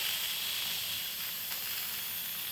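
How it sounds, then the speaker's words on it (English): Steady pressure-release hiss from an Instant Pot after cooking a chuck roast, a faint, even rush of steam that holds unchanged throughout with no voices. "now I am going to release the pressure until this little knob goes down"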